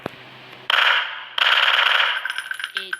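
Rapid machine gun fire in a video game, rattling out in two loud sustained bursts separated by a short pause, followed by a few scattered lighter clicks and pops.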